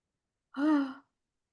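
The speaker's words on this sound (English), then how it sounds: "I'm just going to stretch and yawn and invite all listeners to do the same" A single person yawns once, a short, breathy, voiced exhale rising then fading over about half a second, close and alone in silence.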